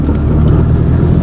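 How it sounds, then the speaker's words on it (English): A car engine drones steadily and loudly from start to finish, a low rumbling hum with no clear revving peaks, heard close up. "It's a rally car, bro."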